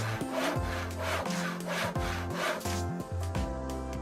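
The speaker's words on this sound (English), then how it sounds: "Now let's check out the sharpening process." A knife is drawn again and again across the stone of a sharpening jig with aluminum clamping plates, making loud, steady rasping strokes that repeat in an even rhythm with no voices.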